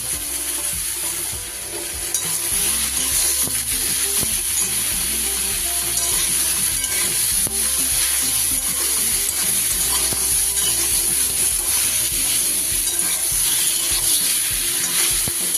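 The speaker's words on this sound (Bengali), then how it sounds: "এবার কিন্তু বেগুনগুলো আমার বেশ ভালোই নেড়ে চেড়ে ভাজা হয়ে গেছে" Brinjal pieces stirred and fried in a pan, a continuous bright sizzle with repeated scraping and clattering of the spatula, loud and close throughout.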